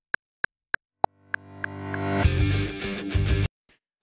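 A metronome click track ticks four evenly spaced times, then fades as a song's opening swells in underneath, building over a couple of seconds before stopping abruptly into silence.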